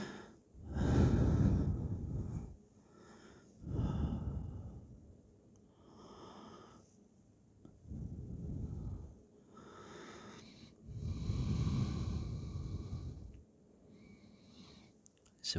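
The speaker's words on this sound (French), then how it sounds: "Respirez tranquillement." Slow, calm breathing during the yoga child's pose, with long audible inhales and exhales repeating in a steady rhythm, close and soft, without talk.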